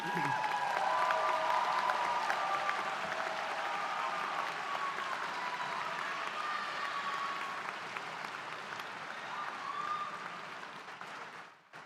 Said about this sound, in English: can we give another round of applause to our recent graduates?